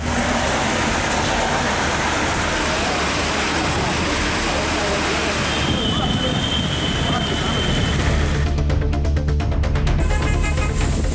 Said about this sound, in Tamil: திடீரென பலத்த காற்று மற்றும் இடி மின்னலுடன் மழை பெய்தது